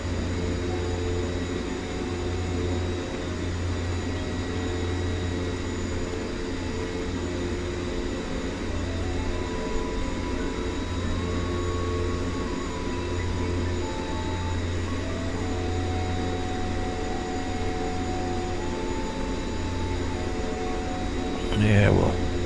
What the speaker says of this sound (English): we'll tune down the RPMs on the motors a little bit so that makes it a little easier to control our taxi speed